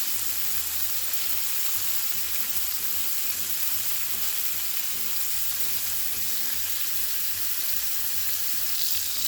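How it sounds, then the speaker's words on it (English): Salmon fillets fry steadily in a pan on a stovetop, a dense, even sizzle and crackle that holds at moderate level throughout with no talking. "I'm going to proceed to cook these until the color changes until about halfway up the side of this fish"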